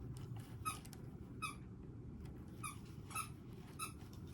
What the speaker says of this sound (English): She's squeaking her toys and running around.